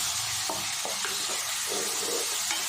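Thick masala and tomato paste sizzles and hisses in a hot pan while a spoon stirs it, with soft scraping strokes repeating every half second or so.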